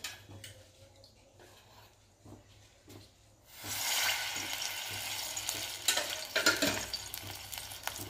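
One ladle of oil heats in a kadhai: quiet faint ticking at first, then a steady bright sizzle and crackle that sets in about midway and continues to the end.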